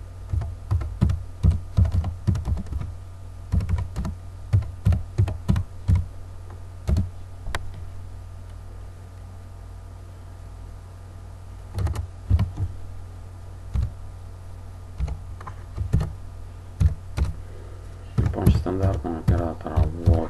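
Someone types Pascal code on a computer keyboard, with bursts of quick key clicks separated by pauses over a low steady hum, nearby and fairly quiet.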